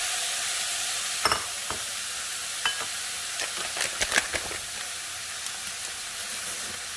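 Ground meat frying in a preheated pan with cooking oil, a steady broad sizzle throughout with scattered sharp crackles and pops, close and moderately loud, no voices.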